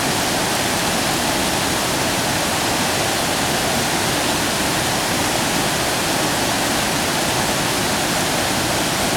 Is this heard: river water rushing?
yes